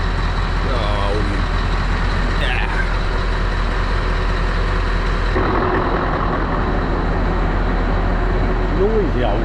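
Old truck engine idling and rumbling loud and close, with a steady low throb under someone talking over it throughout.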